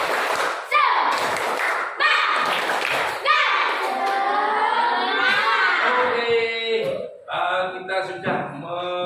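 A classroom group performs the 'tepuk semangat' spirit-clap chant, sharp collective claps falling in a steady counted rhythm while voices chant loudly together between and over the beats.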